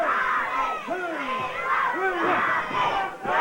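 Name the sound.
wrestling crowd chanting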